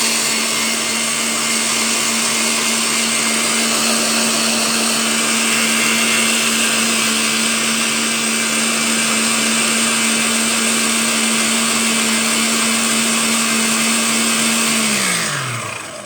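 Electric hand whisk whipping gluten-free meringue in a bowl, a loud, steady high-pitched motor whine droning for the full length before winding down abruptly at the end, with no talking.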